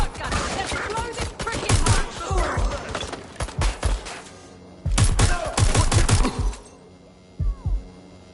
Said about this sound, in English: I have the shotgun. Let's blow this frickin' hatch.